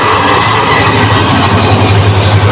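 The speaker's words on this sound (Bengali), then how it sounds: "ঢাকা থেকে একটি ট্রেন চলে আসছে দ্রুত গতিতে।" A fast train arrives from Dhaka on the new broad gauge line at Ghorashal Railway Station, bound for Chittagong. Its roar is loud and steady, with a deep rumble throughout.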